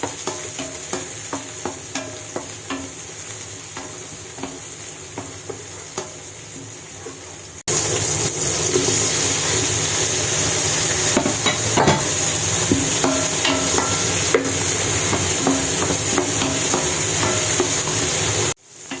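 Beef kaldereta base of garlic and onion sizzling in oil in a pan while a utensil stirs and scrapes, rhythmic clacks first, then louder continuous frying with scattered taps.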